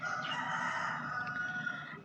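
A rooster crows once, a loud, drawn-out cock-a-doodle-doo lasting about two seconds, heard close and on its own.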